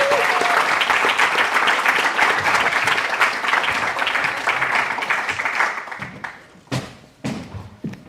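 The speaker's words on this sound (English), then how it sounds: "A big round of applause for Bye Teddy." Applause from the audience at a pitch competition grand final as a team is welcomed on stage: loud, dense clapping that carries for several seconds, then thins out into a few scattered claps and thumps.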